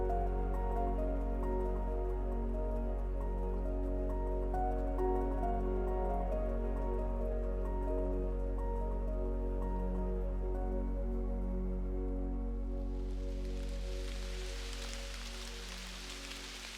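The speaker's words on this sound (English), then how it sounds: "Instead of some lovely light, we've just been given some pretty torrential rain." Torrential rain in an autumn woodland, a steady dense patter and dripping on leaves heard alone, with a low constant rumble underneath and a rising hiss of heavier rain toward the end.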